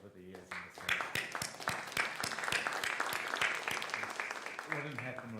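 An audience at a physics conference on active liquid crystals applauds its organiser, many hands clapping at a fairly even rate for several seconds, with some speech at the start and end.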